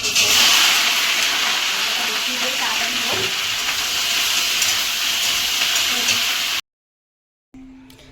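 Okra fries in hot oil in a wok, giving a loud, continuous close-up sizzle with faint stirring scrapes that cuts off abruptly near the end, followed by a short quieter stretch.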